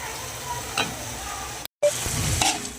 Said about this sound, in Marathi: असं स्मॅश करून पनीर मी घातलेलं व्यवस्थित तेलात आता भाजून घेऊया आपण.